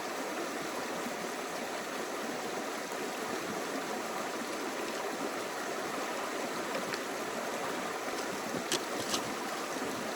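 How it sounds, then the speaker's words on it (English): Steady rushing water of a knee-deep river in the Tasmanian wilderness on the Port Davey Track, a continuous broadband wash with faint splashes as a hiker wades across, no talking. "On my first river crossing, that's actually like somewhat wide, and I'm gonna have to obviously get right in there."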